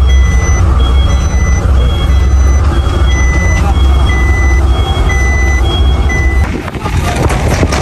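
A large truck backs into a parking spot on a trip to Mindanao, its reversing alarm beeping in a regular, repeating pattern over a loud, heavy engine rumble that drops off near the end.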